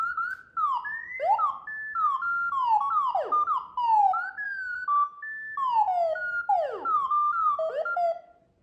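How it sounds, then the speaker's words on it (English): A rapid series of electronic R2-D2-style astromech droid beeps, whistles and warbling chirps from a desk robot, rising and falling in pitch, continuous and close with no talking. "convert regular text into sequence of astromech style beeps, whistles and chirps"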